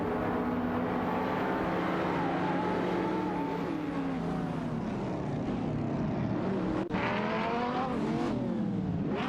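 Racing cars in a video game, including a Renault Clio 3 RS and a BMW, whine past with rising and falling engine tones that shift gears, loud and continuous, with a brief dropout near the end.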